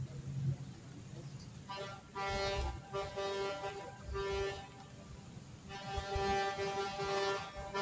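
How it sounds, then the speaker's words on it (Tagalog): Car horns honk repeatedly in the distance, several sustained toots rising over a busy background murmur. "Yung busina."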